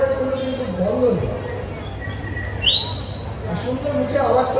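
Red munia, also called red avadavat, giving a thin rising chirp midway, with a few faint high notes around it, heard beneath steady talking.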